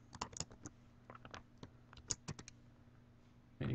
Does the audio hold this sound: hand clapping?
no